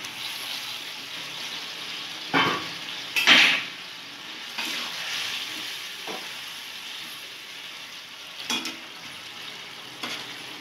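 Fried potato and cauliflower pieces are tossed and mixed in a pan over a steady low sizzle. Intermittent spatula scrapes and knocks come through, louder bursts early on, then gentler stirring.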